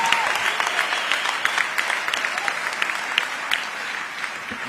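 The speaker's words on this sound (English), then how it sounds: "can you give me another round of applause" A round of audience applause at an ICT technology summit, loud and dense clapping from a large crowd with scattered sharper claps standing out and the level gradually easing toward the end.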